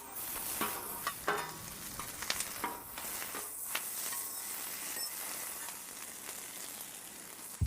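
Brown onions fry on a hot griddle for Korean-style burgers, giving a steady close sizzle with scattered crackles and scraping stir sounds throughout, and no talking.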